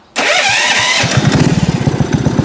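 A homemade motorcycle built from a water pump engine cranks to life abruptly, then settles into a loud, rough, throbbing idle with low, rapid pulsing beats.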